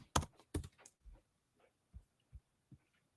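Keys on a computer keyboard are struck in a short burst of quick clicks followed by sparse, softer taps, close and quiet with no voices.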